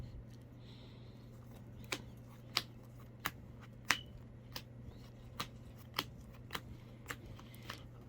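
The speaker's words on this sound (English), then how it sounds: "we're gonna go ahead and power shuffle." Crisp clicks and riffles of playing cards being power shuffled, a dozen or so sharp snaps spread unevenly over a low steady hum.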